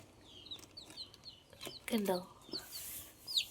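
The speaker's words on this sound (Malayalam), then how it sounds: "ഇത് നമ്മുടെ പുതുതായിട്ട് വിരിച്ചിറങ്ങിയ കോഴിയുടെ കുഞ്ഞുങ്ങളാണ്" Three newly hatched chicks kept in a box give high, thin peeps in short repeated bursts, close and fairly soft, while a person speaks briefly in between.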